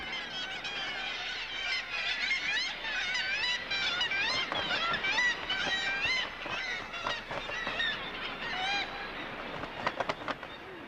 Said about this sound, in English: thousands of birds, like the kittiwake, come here to breed